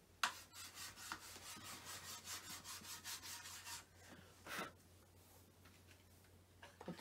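Chalk rubbed back and forth over the chalkboard surface of a Russell Hobbs slow cooker, a steady run of scratchy strokes for about four seconds, then a few scattered rubs, close and fairly quiet with no talking.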